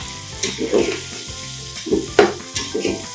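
Mushrooms frying in a pan for mushroom biryani, with a loud, close sizzle broken by several clattering stirs, and no talking.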